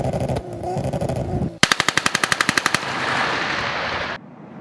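Weapon fire recorded on a firing range for game sound effects: a rapid burst of about a dozen sharp, evenly spaced machine-gun shots, loud and close, followed by a rolling echo that cuts off abruptly.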